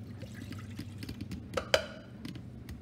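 Water pours briefly into a pot in a kitchen before boiling, a soft close trickle with a sharper splash near the end and faint background hum.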